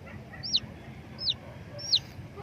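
Chicks peeping in three short high chirps, spaced about a second apart, faint over a low farmyard murmur; a week-old brood of six chicks whose hen is gone.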